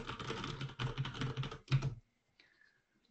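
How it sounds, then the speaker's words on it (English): Rapid, dense computer keyboard typing picked up close by an open microphone during an online webinar, several continuous bursts of clatter over two seconds, then near silence with a faint tone. "I think I was typing with the microphone on"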